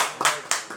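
A brief burst of hands clapping in a church worship gathering, a few sharp claps in quick succession, fairly close and loud.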